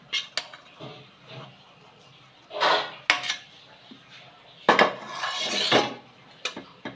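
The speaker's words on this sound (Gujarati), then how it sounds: "હવે આ થાળીમાં આપણે ઘી લગાવેલું છે તો એમાં આપણે આ નાખી દઈશું" Semolina and mawa barfi mixture scraped and tipped into a ghee-greased steel plate, with several clanking spoon-on-metal knocks and scraping bursts, close and fairly loud, separated by quieter pauses.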